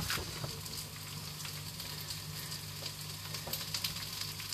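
Food sizzles and spits steadily as it fries in a pan during a home meal-kit cook, with occasional scraping stirs of a utensil; close and continuous, no talking.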